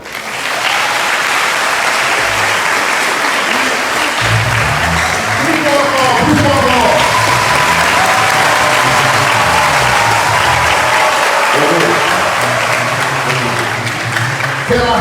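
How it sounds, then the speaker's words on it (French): A crowd applauds continuously for the whole stretch at a school centenary celebration in Torbeck, Haiti, loud and sustained, with a voice speaking over the clapping partway through. "Applaudissez s'il vous plaît."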